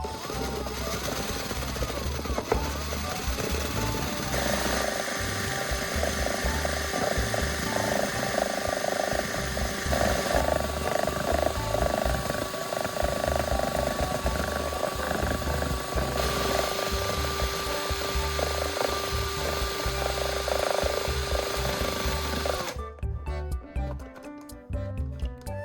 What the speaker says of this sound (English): Next, I'll turn on the drill.